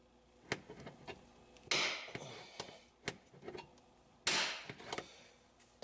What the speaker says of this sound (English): Line both your lower templates and use a snap punch.